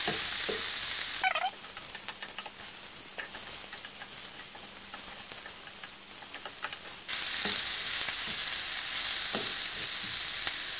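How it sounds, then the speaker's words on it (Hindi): Chicken and vegetables frying on a high flame for chicken vegetable rice give a steady, dense sizzle throughout, with intermittent stirring scrapes and a brief hiss as something hits the hot pan, no voices. "और इनको हाई फ्लेम पे जो है ना आपने फ्राई करना है।"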